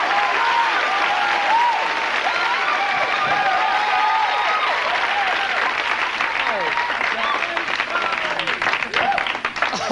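A theater audience applauds comedian Richard Jeni at a stand-up show, with dense, loud, steady clapping and some cheering that fills the whole stretch without a break.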